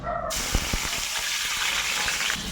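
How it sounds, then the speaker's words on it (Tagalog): Chopped onion and garlic hit hot oil in a large wok, a loud close sizzle after a few quick clunks of the ingredients dropping in, then a steady crackling fry. "magigisa na tayo ng sibuyas at saka bawang"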